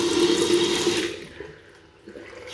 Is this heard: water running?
yes